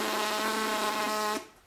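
A trumpet player's lips buzz on their own without the mouthpiece, imitating a humming bee: one steady, close, reedy drone lasting over a second before cutting off.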